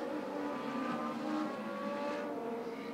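Race cars in a Legends heat at Beaver Dam Raceway, their engines droning steadily as a pack through the turns, a blended mid-distance roar that holds even and loud throughout.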